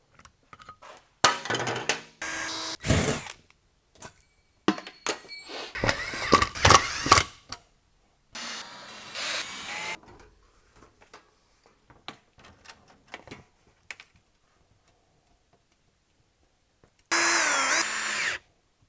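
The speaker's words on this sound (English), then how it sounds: "I'm using a drill for this tiny work" A power drill whirs in several short, loud bursts separated by quiet pauses, with occasional small clicks and handling noises between runs.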